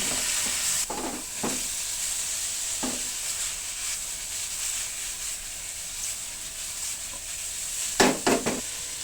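Chicken livers seasoned with salt and pepper sizzle steadily in a hot pan while being stirred, with a few louder scraping stirs and clatters near the end, close and clear with no talk.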